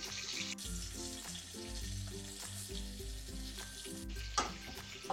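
Onions dropped into hot oil for a mutton curry fry with a loud, steady sizzle that persists through the whole stretch, over a soft repeating tonal backing.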